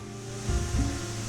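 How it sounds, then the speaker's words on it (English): A steam locomotive in the railway game Railroads Online vents a hissing, rushing blast of steam, a broad whoosh that swells in the middle over a low steady rumble, with no talking. "Oh, that blows steam."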